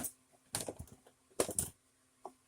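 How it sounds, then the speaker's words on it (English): A bone folder creases a folded index card in a few short, soft scraping strokes, close and quiet, with a faint tap near the end. "we're going to really crease that nicely"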